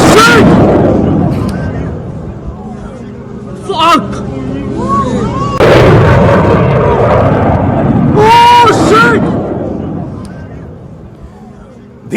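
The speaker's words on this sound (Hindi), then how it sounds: "ये आप आवाज सुन रहे हैं, एक तो तेजस की गर्जना आप सुन रहे थे, लेकिन जैसे ही ये जमीन से टकराता है" A Tejas fighter jet roars and then crashes with a heavy boom at the Dubai Air Show, the loud blast and rumble mixed with crowd babble and shouting voices nearby.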